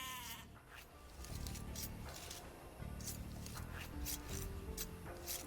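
Several sheep bleat in the Age of Empires II video game, with repeated wavering calls over a steady game soundtrack and ambient bed, fairly close and clear.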